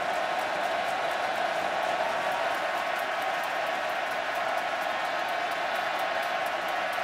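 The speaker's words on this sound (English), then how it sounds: "the amount of noise that crowd's providing" Steady roar of a packed stadium crowd at a Texas A&M vs Florida college football game in College Station, loud and continuous with a dense wash of noise throughout and no single voice standing out.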